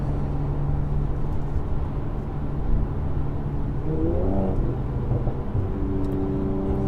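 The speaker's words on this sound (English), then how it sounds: "The car's making some nice pops this morning." A 2019 Mercedes-AMG C43 with 400 bhp driving along, its engine humming steadily before a brief rising rev and lift-off, with faint exhaust pops and crackles in the background.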